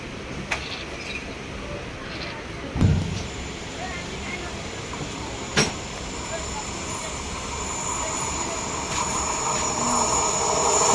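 A train rumbles steadily during a journey through Assam, a continuous rolling noise that slowly swells, with a few sharp knocks and faint voices in the background.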